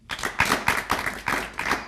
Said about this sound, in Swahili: Pigeni makofi bwana.